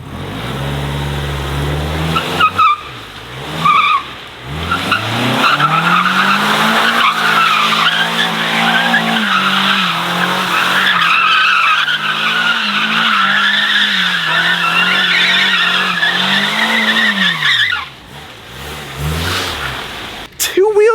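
Nissan Silvia S15 spinning both rear wheels in place, tires squealing and smoking over a loud sustained engine roar for most of the run, a short burst before it, with people talking around it.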